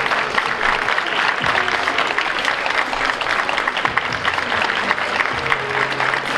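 Sustained applause from a school audience at a festive end-of-year ceremony, dense and steady throughout with a murmur of voices underneath.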